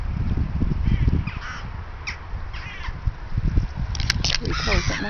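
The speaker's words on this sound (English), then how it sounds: "Oh, and there's loads of crows and all." Crows caw repeatedly at feeding time, with several harsh calls at mid-distance over a steady outdoor rumble. Someone talks over them.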